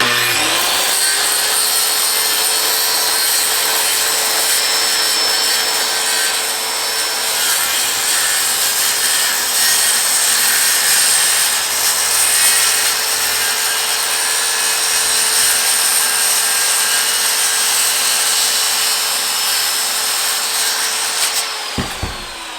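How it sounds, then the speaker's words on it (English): A power saw cuts through a wooden board for a Tacoma truck camper build, whining loudly and steadily for over twenty seconds before stopping abruptly at the end. "Cut out this board and done the fine cuts."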